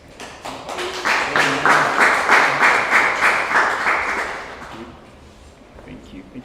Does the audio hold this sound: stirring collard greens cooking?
no